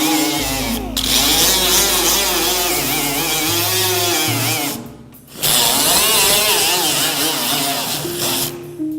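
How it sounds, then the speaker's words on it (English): A 3-inch grinder with a Cubitron 2 roll-lock abrasive disc grinding weld nuggets off metal, a loud continuous whine with shifting pitch, briefly pausing twice, with a voice faintly underneath. "we'll use a 3-inch grinder with a roll-lock disc Cubitron 2 abrasive"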